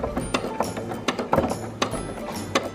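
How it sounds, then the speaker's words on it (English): Sewing machine stitching a pocket, running a back stitch and then sewing forward again over the same seam, heard as a steady close mechanical whir with rhythmic clicking and small ticking bursts throughout. "push the back stitch button. And then go forward again, right over where you sewed the first time."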